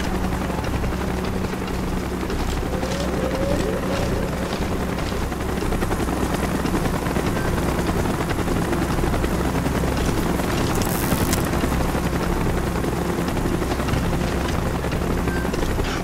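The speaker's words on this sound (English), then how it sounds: "Chopper's inbound! Move it!" A helicopter in the Call of Duty Black Ops video game, with a dense, loud, continuous rotor thrum and roar that holds steady the whole time.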